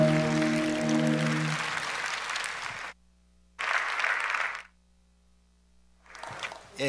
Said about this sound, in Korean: 다시 한번 박수로 힘내 주시겠습니다